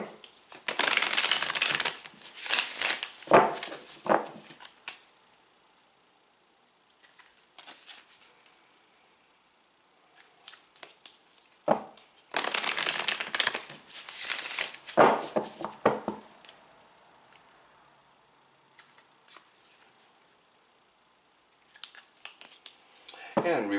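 Tarot cards are shuffled in close, crisp bursts of riffling and rubbing, separated by long quiet pauses.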